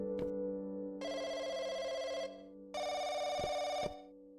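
A telephone bell rings in two long, loud bursts separated by a short pause, with a steady low hum running underneath and no voices.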